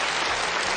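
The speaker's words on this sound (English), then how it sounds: "a round of applause for our volunteers" A live audience claps loudly and steadily for volunteers called up on stage at a talk on stage fright and performance, the dense applause filling the whole moment without a break.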